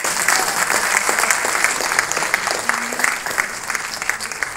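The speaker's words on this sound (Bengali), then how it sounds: "একটা জোরে করতালি হোক।" A hall audience at Rabindra Bhavan in Diamond Harbour gives a strong round of clapping as a memento is presented to a director. The dense, lively applause holds steady throughout, with faint voices mixed in.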